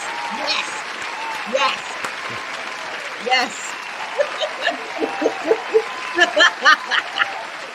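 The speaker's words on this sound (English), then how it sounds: "Can we give them a round of applause" Audience applause runs as a steady wash under light chuckles and snickers, with a voice cutting in between bursts of laughter across the clip.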